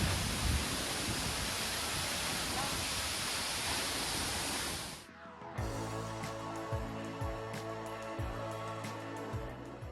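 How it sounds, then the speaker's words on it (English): Steady broadband roar of a waterfall in southern Iceland for about five seconds, then it cuts to a quieter scene with tonal hum and light clicks. "This is one of the few waterfalls in the world you can walk behind."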